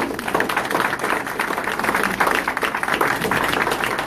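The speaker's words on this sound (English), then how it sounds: "a round of applause, please" Audience at a Beach Cities Republicans meeting gives a round of applause after a talk, a dense, steady wash of many hands clapping at once, fairly loud and continuous with no voices over it.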